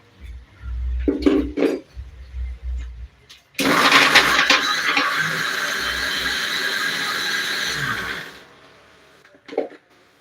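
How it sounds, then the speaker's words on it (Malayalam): A few clinks and knocks, then a mixer grinder whirs loudly for about five seconds grinding bread, and stops, followed by another small clatter. "നമുക്ക് അത് മിക്സിയിലേക്ക് കൊടുത്തിട്ടുണ്ട് നമുക്ക് ജസ്റ്റ് ഒന്ന് ഒന്ന് അടിച്ച് എടുക്കാം"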